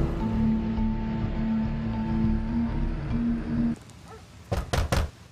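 Police officers rap on a door in a dubbed action film scene, a few loud, sharp knocks arriving in a quick cluster right after a stretch of low rumbling background with a steady hum.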